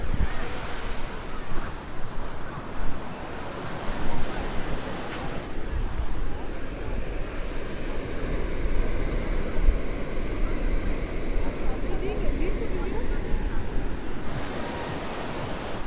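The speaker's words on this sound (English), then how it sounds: "Those breakers that you can see out in the middle out there, that's Wedding Cake Island." Ocean waves wash and break continuously at Coogee Beach in Sydney on a warm sunny day, a broad steady roar of surf mixed with wind buffeting the microphone, with no distinct voices over it.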